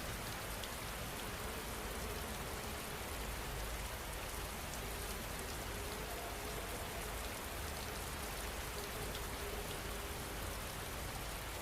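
Steady rain falls continuously, a soft, even hiss of drops pattering on surfaces that holds the same level throughout with no voices and no thunder.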